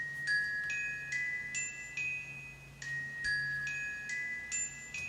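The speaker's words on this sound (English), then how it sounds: "the Glockenspiel, because I use the Glockenspiel for the ant." A glockenspiel voice on a keyboard plays a bright, high-pitched melody of about a dozen clear bell-like notes in a steady rhythm. Each strike rings briefly over a faint low hum, with no talking.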